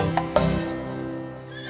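A horse whinnies twice in quick succession within a French children's audio story, the second call louder and near, then fading over a soft lingering tail without speech.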